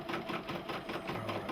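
A Brother PE770 embroidery-only machine stitches with a fast, even mechanical rhythm of needle strokes, heard up close with no speech over it.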